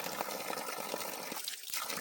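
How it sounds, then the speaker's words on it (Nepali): Spring water welling out of the ground on a trail in Bhojpur, Nepal, a steady, close gurgling trickle heard briefly and alone. "यो उम्रेको पानी ल यहाँ उम्रेको पानी खान्छ"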